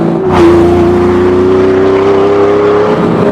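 A Ford car engine revving hard, loud and close, with one sharp surge near the start that settles into a sustained high drone, steady to the end with no voices.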